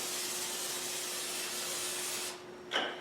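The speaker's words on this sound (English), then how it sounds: "So I'm going to spray the surface." Cooking oil sprayed onto a pan surface for frying blini: a steady continuous hiss lasting over two seconds, then a short sharp spritz burst, close and clear with no talk.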